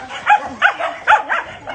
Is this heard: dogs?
yes